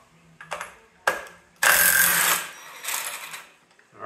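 Hand ratchet zipping off primary clutch cover bolts on a Yamaha Grizzly ATV, a few short clicking bursts close by with a longer loud spell of ratcheting in the middle, no talking.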